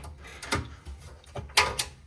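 Custom-built drawers in a military truck camper slide open and shut, giving a few sharp close clunks and rattles separated by short quiet gaps.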